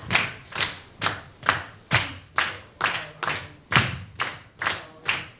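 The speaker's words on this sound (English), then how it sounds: "Clap or tap." A group claps or taps in a steady beat during an experimental teaching session, about eleven sharp, evenly spaced hits with a dull thump under each, close and clear with no talking.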